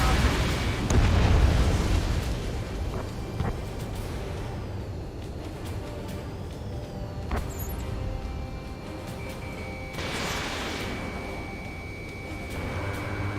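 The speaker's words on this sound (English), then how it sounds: "Missile hit." Missile striking its target in Ace Combat 7, a heavy booming blast at the start that rumbles and fades under jet engine drone, followed by a second rushing burst later on.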